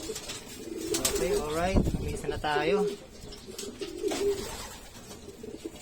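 Racing pigeons coo in low, repeated bursts at the loft after coming home from a race, heard up close while someone talks over them.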